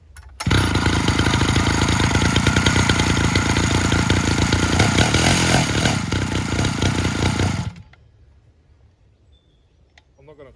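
A Stihl 051AV chainsaw fitted with an aftermarket ignition module roars loudly at full throttle, close by, for about seven seconds, then cuts off abruptly to near silence with faint clicks.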